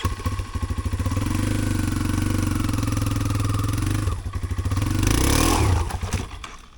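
Motorcycle engine idling with a steady clattering throb while a learner eases out the clutch, the pitch sagging then rising as revs build near the end; no talk over it.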